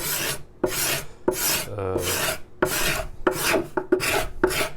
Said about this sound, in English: So I just scrape this down.